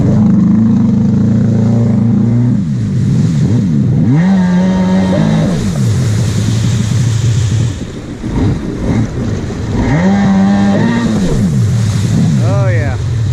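A WaveBlaster 701 jet ski with a new impeller and pump shoe runs loud on the water, its engine droning and rising and falling in pitch through heavy wind rush and splashing, with a voice speaking over it.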